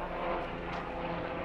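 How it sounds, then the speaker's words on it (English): Steady droning aircraft engine noise, loud and continuous, like a helicopter passing fairly close overhead with no pause. "And that is a helicopter."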